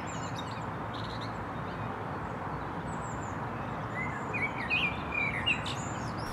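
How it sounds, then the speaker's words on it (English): A European robin sings in Kensington Gardens, thin high chirps and short trills rising faintly over a steady wash of park background noise. "It's full of small birds, like this robin."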